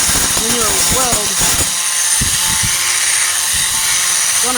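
Angle grinder working rust repair on the tailgate of a 1998 Ford Ranger, a steady loud whine running throughout, with someone talking over the first part of it.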